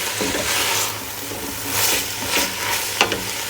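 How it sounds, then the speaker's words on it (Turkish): Fresh green beans with tomato paste stirred in a pot, with a steady close sizzle of frying throughout and occasional scraping and clinking from the stirring utensil against the pot. "güzel böyle karıştırıyoruz"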